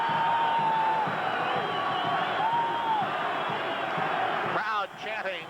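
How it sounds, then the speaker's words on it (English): Baseball crowd at a Blue Jays versus Indians game during Len Barker's perfect game, a steady loud roar and chanting filling the stadium, with a voice talking over it near the end. "Crowd chanting, Lenny, Lenny."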